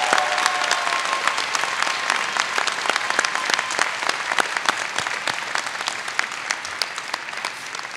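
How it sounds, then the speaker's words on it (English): At a dental school graduation ceremony, a large crowd claps steadily for honored individuals, dense sustained applause with sharp claps throughout and a faint tone briefly underneath at the start. "Round of applause for these individuals."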